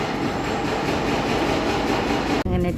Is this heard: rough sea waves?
no